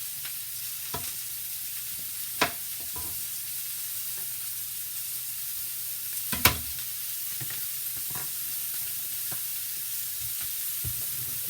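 Vegetables for chicken fajitas sizzle steadily in a hot pan, a soft, even hiss with a few sharp clinks and scrapes of stirring scattered through.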